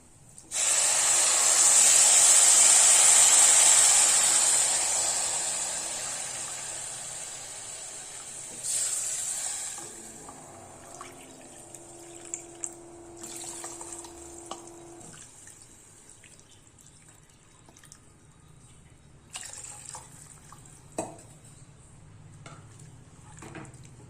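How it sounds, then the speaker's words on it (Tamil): Water pours into a hot pan of wheat rava for kichadi with a loud, sustained hissing sizzle for several seconds, then settles into quieter bubbling with occasional clinks. "இதுக்கு நாலரை கப்பு தண்ணி ஊற்றுறேன்"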